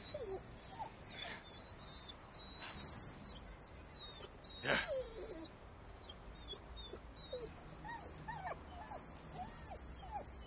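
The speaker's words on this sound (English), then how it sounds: "I can't stand to see dogs abused like this! Look! They're injured! Locked in small cages!" Injured dogs locked in small cages whimper and yip in repeated short, high whines, with occasional sharper yelps over a busy background.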